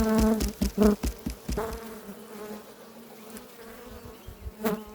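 Honeybees buzzing around a hive in the evening, a close dense drone with several loud individual bees passing by the microphone early on, then a softer steady hum of the colony.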